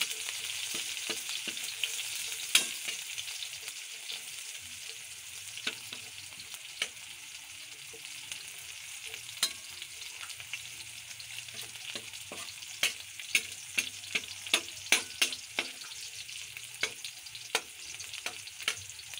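Finely sliced garlic and ginger fry quietly in a pan, a soft continuous sizzle broken by sharp pops and crackles that grow more frequent toward the end, with no voices.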